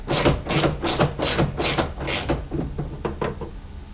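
A hand ratchet clicks in a quick, even series close by while loosening the spoiler bolts on a Gen 5 Camaro, the clicks growing fainter toward the end.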